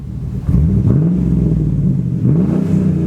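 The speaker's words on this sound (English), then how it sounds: "let's rev it up a little bit, see what she sounds like" A Chevrolet Trailblazer SS revs up close with a deep, loud engine rumble that climbs twice in pitch before settling, and no voices.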